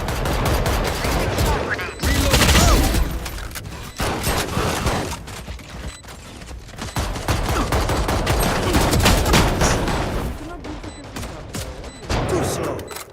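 Video game gunfire, rapid bursts of automatic shots and fusillades in quick succession, loud and close, with short pauses between volleys and a voice talking intermittently over the shooting.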